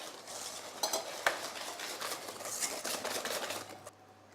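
Egg yolks being stirred with sugar and flan powder in a bowl, a steady scraping whisk-and-utensil sound with occasional sharp clinks against the bowl, close and continuous, no talking.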